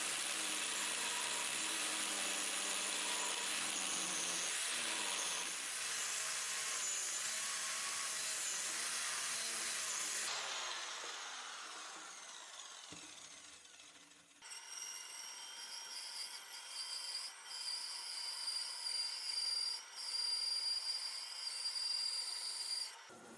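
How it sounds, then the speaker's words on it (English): An angle grinder shapes an oak log into a stand in a woodturning shop, giving a loud, steady, close abrasive roar that eases off midway, then comes back as a harsher, whining grind with no talking. "There is a bit of unorthodox use of the angle grinder here"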